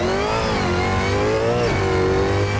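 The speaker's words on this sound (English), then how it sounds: "Start revving it up here." V8 Supercar engine revving at a race start in Assetto Corsa: a loud, continuous engine drone held near one pitch, dipping briefly and then settling, with no voices.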